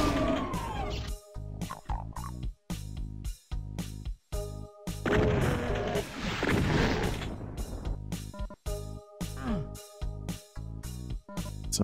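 Repeated shotgun blasts from the first-person shooter Doom II, loud and close, firing in a steady rhythm of roughly one shot per second with brief gaps between them.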